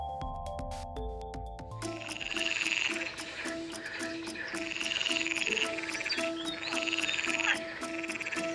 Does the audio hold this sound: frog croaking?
yes